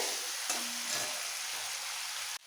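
Potatoes and vegetable stalks sauté in spiced oil in a pan with a steady, close sizzle and a brief stir, alone without talk.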